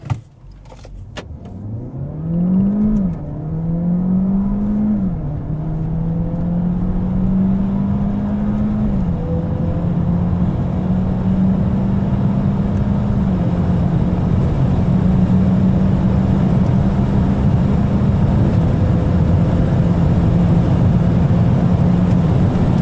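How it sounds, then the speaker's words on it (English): Peugeot 508 SE hybrid sedan accelerating at full throttle in sport mode down a test track straight, a loud continuous engine drone climbing through several gear changes with brief dips, then holding a steady high-speed roar with road and wind noise. "Let's hit the throttle and see on this test track straight."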